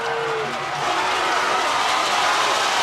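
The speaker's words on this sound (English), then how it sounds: "The crowd not giving up yet" Football crowd at a 1998 high school game between Haslett and Romulus, a dense, steady roar of cheering and clapping that swells slightly and holds loud throughout.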